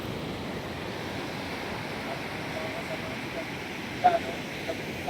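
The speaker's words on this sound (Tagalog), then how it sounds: "Ayan, napakalaki ng alon." Big ocean surf at a beach in Quezon, Philippines, a steady washing roar of breaking waves with wind buffeting the microphone, a few brief louder bumps near the end.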